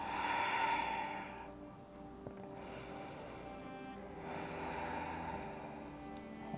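Slow, steady breathing in and out during a yoga flow with resistance bands, a soft airy exhale swelling near the start and again later, quiet and close with no talk.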